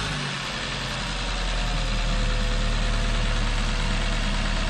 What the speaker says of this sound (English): start the engine and just check that everything works